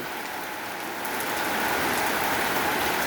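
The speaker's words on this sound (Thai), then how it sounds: "ฝนบ้านแม่ลี ตก จ้า" Rain falls steadily in a rural village during rice harvest season, a dense, even hiss of drops on surfaces that swells slightly louder partway through, with no voices.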